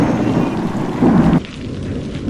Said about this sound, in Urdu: موسلادھار بارش ہو رہی تھی۔ آسمان پر کالے بادل اس طرح گرج رہے تھے جیسے کوئی خوفناک طوفان آنے والا ہو۔